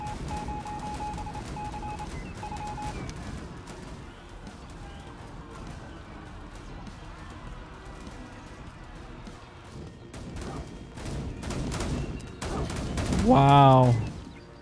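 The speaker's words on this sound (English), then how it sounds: "So we're going to start shooting them." Watchtower gunfire in the video game Endzone: A World Apart, rapid crackling bursts of small shots scattered under someone talking, with a beeping game tone early and a rising whistle near the end.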